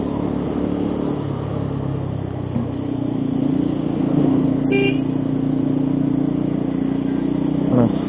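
A vehicle on a rainy monsoon hill road in the Kolli Hills, a steady engine drone with rushing wind and road noise, a brief horn toot near the middle and a rising engine note near the end.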